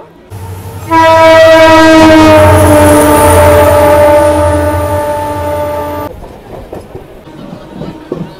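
The 63509 Jhajha MEMU passenger train pulls into Durgapur railway station, sounding one loud, sustained horn blast over its rumbling approach, followed by the quieter clatter of the rolling train.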